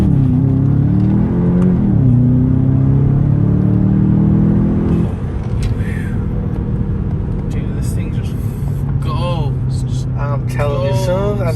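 A 2021 Volkswagen Jetta GLI launching hard with launch control, its engine roaring loud and close inside the cabin, revs climbing and then a gear change, with people talking and exclaiming over the noise.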